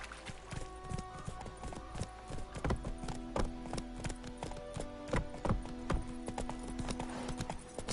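Horse hooves clop in a steady rhythmic gallop in The Witcher 3, with close, repeated hoof strikes and faint tonal game music behind them.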